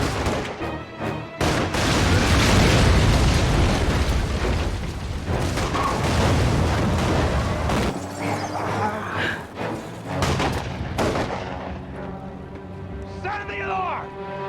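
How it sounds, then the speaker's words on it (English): Gunfire and explosions ring out in a scene from the TV series Lost: a dense run of loud bangs and booms, followed by quieter mechanical clatter and voices. "nobody heard all of these gunshots?"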